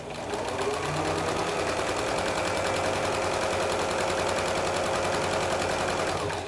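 A sewing machine stitches quilt block strips in a fast, even, continuous rattle, close and steady throughout.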